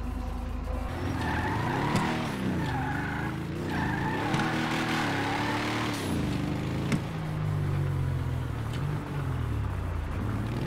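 A Chevy car in GTA V drives and slides, its engine note rising and falling with sustained tire squeal through a long skid, loud and continuous without speech.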